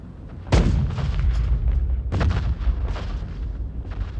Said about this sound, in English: The barrage began at 5:20 a.m., September 27th.